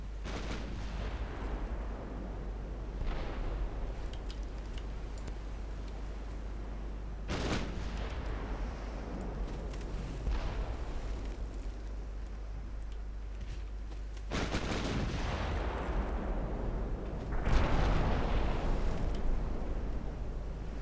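Naval gunfire and shell hits in the warship game Ultimate Admiral Dreadnoughts: repeated heavy booming blasts at irregular intervals, each a sharp broadband burst trailing into rumble over a constant low hum.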